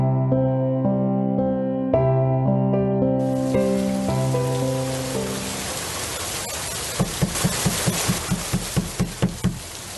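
Steady rain hiss swells in after a few seconds of soft musical tones and keeps on as a broad wash, with a run of sharp knocks near the end.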